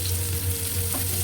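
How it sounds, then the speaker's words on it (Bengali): Chopped onion fries in a pan for a red spinach stir-fry, a dense, continuous close sizzle with no talk. "পেঁয়াজ একটু নরম করে ভেজে নেব, বেশি ব্রাউন করার প্রয়োজন নাই।"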